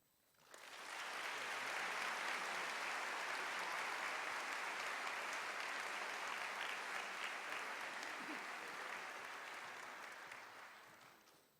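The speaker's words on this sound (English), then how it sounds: "let's give all of the awardees a big round of applause" Sustained audience applause at a university fall conference honoring awardees, a dense, steady clapping from a large crowd that swells in quickly and holds for about ten seconds before tapering off.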